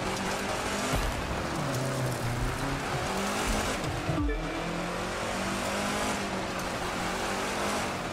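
A race car in the video game The Crew 2 roars along a snowy mountain road, its engine droning loudly and continuously with shifting pitch and a brief dip as gears change, tires hissing beneath.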